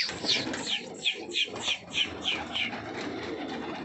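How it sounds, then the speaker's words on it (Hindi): Punjabi pigeons in their boxes give a series of evenly spaced cooing calls, close by, one after another, with a faint rumble of background noise beneath. "तो ये कबूतर है"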